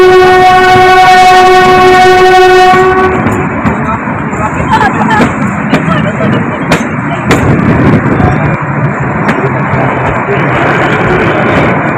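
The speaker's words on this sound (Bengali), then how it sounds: "যথারীতির সময় আবার আমাদের টয় ট্রেনটি ছেড়ে দিল।" The Shimla-Kalka narrow-gauge mountain toy train in Himachal Pradesh sounds a long loud horn, then clatters and rumbles away with sharp metallic clanks as it departs the station, with voices in the background.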